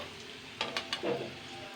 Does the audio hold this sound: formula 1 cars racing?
no